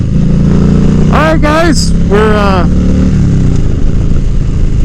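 A Yamaha V Star motorcycle fitted with a car tire idles with a steady, constant engine drone while someone talks over it.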